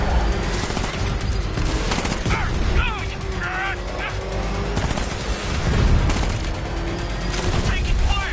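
Rapid gunfire in Batman: Arkham Knight bursts repeatedly through a dense, loud game mix, with shouted voices and other effects layered over it throughout.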